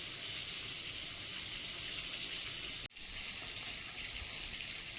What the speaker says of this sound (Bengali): গোটা গরম মশলাগুলো জল গরম হয়ে ফুটে ওঠার মতো হয়েছে এবার ওর মধ্যে দিয়ে দেবো